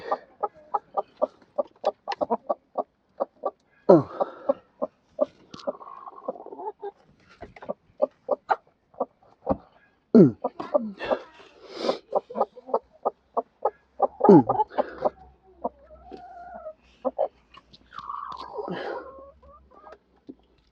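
A broody backyard hen sitting on eight eggs gives steady, close, rhythmic low clucks in quick series, broken by a few louder drawn-out calls and grumbles.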